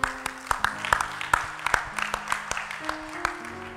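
A church congregation claps in a steady, rhythmic beat during worship, roughly two claps per second, with sustained tones and voices underneath.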